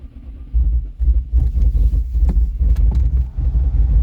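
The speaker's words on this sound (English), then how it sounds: "The car is started." A 2010 BMW X5 E70 50i engine idles with a steady low rumble, close by, with a few faint clicks and knocks over the drone and no talking; the engine does not respond to throttle.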